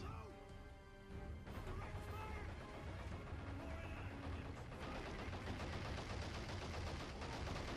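Mortar fire and battle noise in the war strategy game Men of War: Assault Squad 2, with dense, overlapping blasts, crashes and gunfire bursts growing busier and louder over several seconds.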